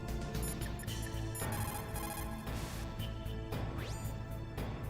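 A codec call ringing in Metal Gear Solid, a dense electronic ringtone repeating in rapid bursts over game music, loud and steady throughout.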